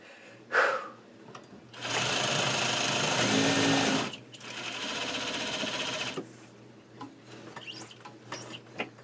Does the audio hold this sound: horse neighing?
no